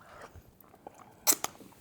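Close, soft chewing on Filipino-style garlic butter shrimp with lemon, a few quiet wet bites and then a couple of sharper crunchy clicks near the end.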